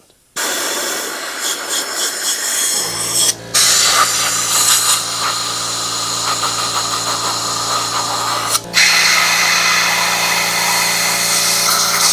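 Loud, continuous hissing blast of compressed air blowing out motorcycle valve parts, with a steady mechanical hum, briefly cutting out twice before resuming.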